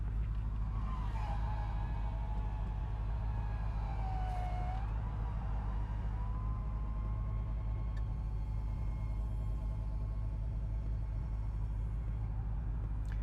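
Power convertible top on a 1968 Chevrolet Camaro lowering with a steady electric motor whine and low rumble, rising and falling slightly in pitch over about thirteen seconds, with no talking.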